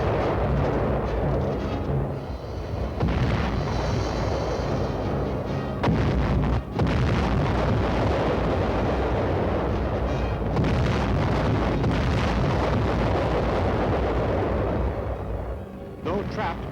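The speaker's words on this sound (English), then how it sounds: "Our artillery went into action." Heavy artillery guns firing in a wartime battle alongside 3rd Division units, a dense continuous rumble of booming blasts with wind buffeting, loud and sustained throughout.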